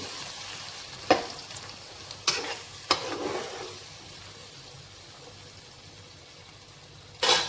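Battered vegetables being stirred into rice in a pot for parda biryani, with a few distinct scraping knocks and a final scrape against a quiet, faint background.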